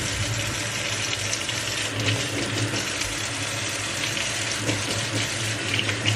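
Hot tap water runs steadily into a bathroom sink for washing makeup brushes, a continuous close hiss and splash with slight fluctuations and no one talking.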